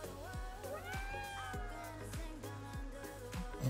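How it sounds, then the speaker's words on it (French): A cat in the video game Ghostwire: Tokyo meows several times in a row, rising and falling, over faint game ambience with soft rhythmic thumps beneath. "Ah, il est chou le chat."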